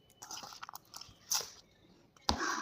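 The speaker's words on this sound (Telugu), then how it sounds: "ఇప్పుడు దీన్ని వేడి వేడి అన్నం వేసుకొని తినాలి" Crunchy bites and soft chewing of chicken bortha mixed with hot rice, close and quiet, with scattered smacking sounds and a sharper crunch near the end.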